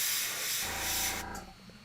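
An airbrush sprays paint onto a Warhammer 40k Sisters Novitiate miniature with a steady, close, breathy hiss for about a second before cutting off, leaving faint rattling behind.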